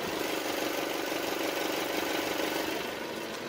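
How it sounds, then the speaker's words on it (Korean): A gasoline Chrysler 200 engine with about 60,000 km idles steadily up close, a continuous even hum with a faint mechanical ticking and no voices. "뭐 이 정도의 엔진 소음이 나고요"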